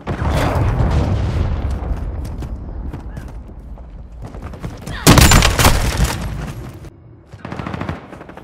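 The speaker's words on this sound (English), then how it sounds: "Friendly cruise missile deployed." A cruise missile strike in Call of Duty Modern Warfare 2 multiplayer: a loud, sudden blast near the middle cuts through ongoing rattling gunfire and booms, then settles back into scattered shots and rumble.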